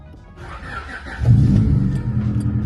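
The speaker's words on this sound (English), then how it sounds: "the first thing I need to do is make sure this car actually starts" A Honda VTEC car engine cranks briefly and then catches, settling into a loud, close idle, with no talk over it.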